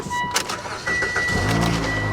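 A Mitsubishi car engine cranks briefly and then catches, settling into a steady close idle hum.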